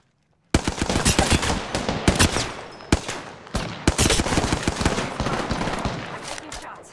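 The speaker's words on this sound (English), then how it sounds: "Shots fired in the distance" Sustained rapid automatic gunfire in the Apex Legends video game, loud and nearly continuous with a few sharper single shots, starting abruptly after a moment of quiet.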